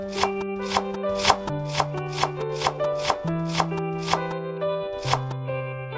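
A knife thinly slicing tomatoes on a board for chicken biryani, a steady series of crisp cutting taps over a continuous tonal background, close and moderately loud, with no talking.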